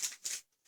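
Three quick dry clicks with short gaps between them, close and fairly quiet, a Yamaha Vixion motorcycle relay snapping on and off.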